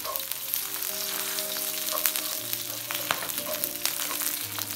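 Curry leaves sizzle and crackle in hot oil in a pan while a crab dish is being cooked, a steady close frying hiss with small pops running throughout, no voices.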